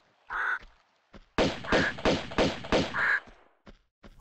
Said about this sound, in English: Can we get rid of this crow?